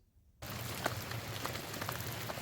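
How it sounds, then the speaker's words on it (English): Steady rain falls through the jungle along the Manoa Falls trail on Oahu, Hawaii, a dense continuous patter that starts abruptly after a brief quiet moment and holds an even hiss with scattered louder drops. "They're hiking through the rain, so they've got their palm fronds so they don't get wet."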